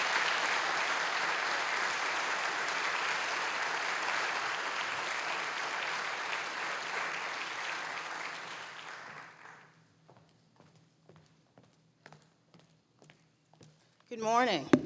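Audience applause at a national conference welcoming the keynote speaker, an Assistant Attorney General, a broad steady clapping that fills the room for about nine seconds, then fades into scattered footsteps and a brief voice at the end.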